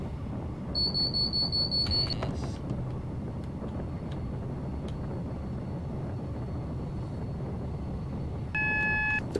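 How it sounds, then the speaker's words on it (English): AWS warning beeps in a Class 444 train cab on the Portsmouth Direct Line in Train Simulator Classic: a steady tone near the start and another at the end, over the constant low rumble of the train running. "AWS again. Loves going off on this route."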